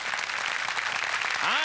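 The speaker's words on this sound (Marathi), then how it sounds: "अभिनेत्री कल्याणी मुळे यांच्यासाठी जोरदार टाळ्या." Applause greeting actress Kalyani Mule on a Marathi comedy show stage, continuous dense studio clapping with a rising musical sting at the end.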